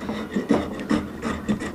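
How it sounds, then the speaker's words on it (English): A hand plane shaves a glued-up wooden spec table top in a workshop: rhythmic rasping strokes, about four or five in under two seconds, loud and close, with no voices. "Dave's famous plane, we can destroy its blade real good. It's cutting."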